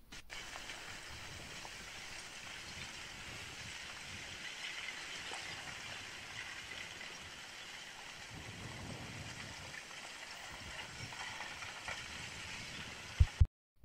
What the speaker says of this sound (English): sometimes you notice a strange sound with these craggy, you know, rough lava flows